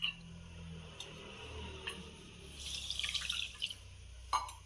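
Water is poured into a cooking pan to make sugar syrup for milk powder gulab jamun. It comes through as a faint trickle and splash in a quiet home kitchen, with a few light clicks and taps.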